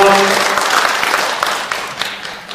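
An audience at a commemoration lecture for the anniversary of the Tokyo 2.8 Declaration of Independence claps in a dense burst, with a voice briefly speaking at the start, and the applause gradually tapers off.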